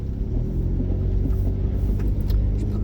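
Steady low engine and road rumble from inside a car driving with the wipers on in wet, stormy weather, close and continuous, with no talking.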